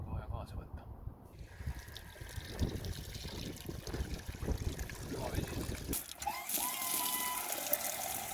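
Water runs steadily from a drinking fountain beside the Camino de Santiago walking trail in Spain, a constant splashing trickle close by, while a person talks over it.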